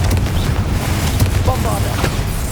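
Hogwarts Legacy spell combat with Bombarda and Confringo blasts, heavy booming impacts and crackling bursts over rumbling game noise, with a character voice calling out during the fight.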